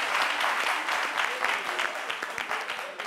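Studio audience on a French television show applauds steadily with dense, even clapping for a few seconds, and a voice briefly breaks in over it.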